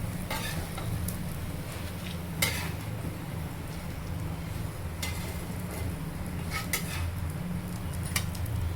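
Egg kebab patties frying on a flat tawa, a soft steady sizzle with occasional sharp scrapes and taps of a spatula against the metal.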